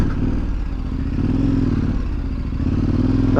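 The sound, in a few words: KTM 1190 Adventure motorcycle riding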